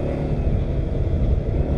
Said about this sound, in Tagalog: Yan, lumalabas pa lang po yung mga sasakyan kakabsat.